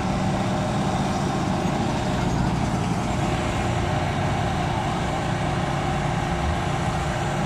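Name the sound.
rally cars departing at the Rally Maya start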